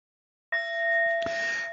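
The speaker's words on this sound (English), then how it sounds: "I send my heart along with the sound of this bell." A mindfulness bell is struck once after a moment of silence, giving a clear ringing tone that sustains. A soft knock partway through adds a second brief strike, and there is no talking.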